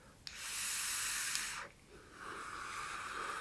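A long breathy exhale of vapour drawn through a Pirate King 2 RDA dripper with a wider drip tip, a soft hiss lasting over a second, then a fainter, thinner airy stream.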